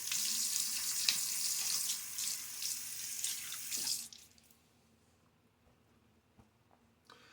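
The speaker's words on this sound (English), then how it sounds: "A little splash of water." Water splashes and runs into a sink from a tap, a loud close wash for about four seconds that then cuts off, leaving near silence with a small drip or knock near the end.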